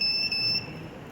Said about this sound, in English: the buzzer rings, detecting an obstruction